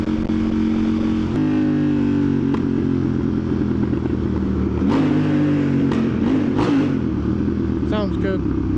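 A motorcycle's engine drones and revs up close, its pitch rising and falling through gear changes, with several sharp exhaust pops and bangs near the end and a voice talking over it.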